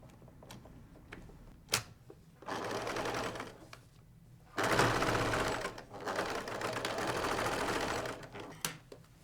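Sewing machine stitching the seam of a box cushion cover, several bursts of rapid, even needle chatter separated by pauses with small clicks and handling sounds, close by.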